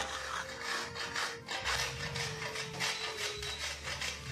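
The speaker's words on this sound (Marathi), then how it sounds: "असं खोबरं किसून घ्यायचं, जपून घ्यायचं जरासं" Fresh coconut being grated by hand on a grater for sweet modak, giving a steady rasping scrape with repeated strokes, close and fairly loud, with no talking.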